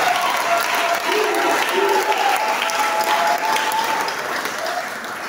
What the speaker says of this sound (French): Donne des acclamations au roi.